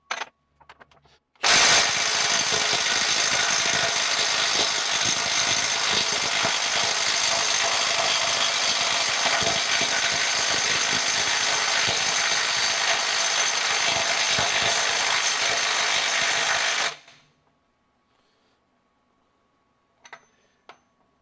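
A Milwaukee Gen 2 M12 FUEL stubby impact wrench hammers continuously for about fifteen seconds, trying to break a bolt free, loud and close with a steady rattling impact, then stops abruptly, leaving near silence and a few faint clicks.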